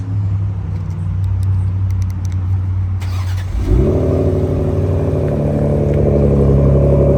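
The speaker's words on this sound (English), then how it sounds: "let's hear how this 2025 sounds with the AWE exhaust" A 2025 Ford Explorer ST engine starts with a clatter, then settles into a deep, throaty idle with light revving through an AWE aftermarket exhaust, loud and close.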